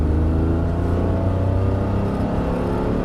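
A GT3 race car accelerates out of a corner, its engine a loud, close, continuous rumbling drone that holds steady for a few seconds and shifts in pitch slightly toward the end. No talk.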